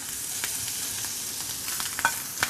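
Squid with garlic and parsley sizzles loudly as it is tossed in a hot frying pan, a dense continuous crackle up close with a few brief clinks and scrapes near the end.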